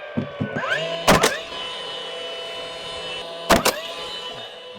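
A nail gun fires on the build site of an off-grid house in the woods, giving two sharp doubled cracks a couple of seconds apart over a steady mechanical whine.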